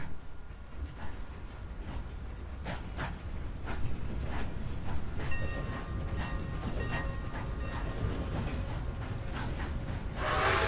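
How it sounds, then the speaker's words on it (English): A train driven in Red Dead Redemption 2 rolls along the rails with a low continuous rumble and rhythmic clacking, moderately loud and without talk. "We are driving the train."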